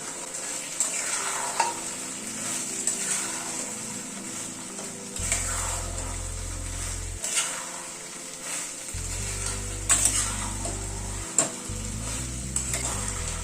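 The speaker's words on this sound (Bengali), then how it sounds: "সোয়াবিনগুলো মিশিয়ে নিলাম।" Soybean chunks with a cornflour slurry frying in a pan and stirred by spoon, a continuous sizzle broken by repeated scraping strokes and light clinks of the utensil against the pan, with no speech.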